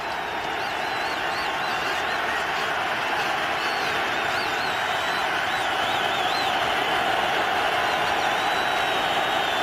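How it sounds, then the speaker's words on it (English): A Detroit Lions home crowd at a football game against the Minnesota Vikings, a loud continuous roar of cheering filling the stadium, with a few whistles rising above the steady wash of noise. "that penalty woke up this Detroit crowd"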